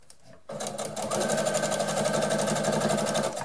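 A sewing machine stitches denim jeans being turned into shorts, running in a steady, fast mechanical whir that starts abruptly after a brief quiet moment and continues loud and even to the end.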